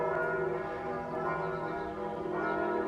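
Church bells ringing continuously at a distance on a hot morning, a steady, faint, resonant peal of overlapping tones with no talking.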